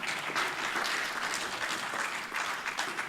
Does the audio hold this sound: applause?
yes